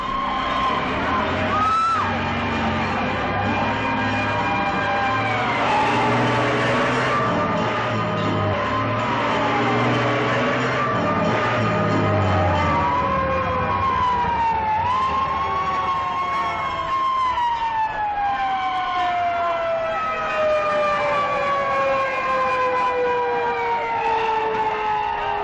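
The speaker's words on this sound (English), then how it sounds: "Follow that fire engine, Mac." A fire engine siren from a 1939 film wails continuously with rising and falling tones, loud and sustained throughout over a busy soundtrack of traffic and street noise.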